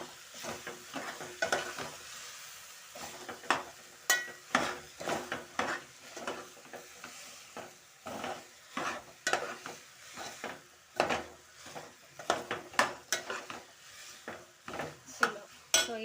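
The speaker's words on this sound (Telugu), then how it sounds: "ఇలాగ బాగా తిప్పాలి గరిటెతోటి" Cauliflower curry is stirred in a pan with a ladle, making a long run of rhythmic close scrapes and knocks over a soft sizzle, with no talk.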